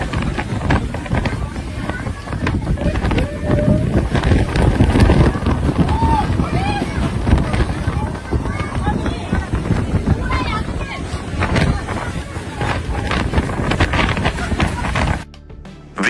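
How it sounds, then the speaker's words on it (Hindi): Strong wind roars and buffets across open water aboard a cruise boat near Jabalpur, a loud, continuous gusting rush with faint voices mixed into the noise. "इस फुटेज में हवा की तेजी साफ तौर पर देखी जा सकती है।"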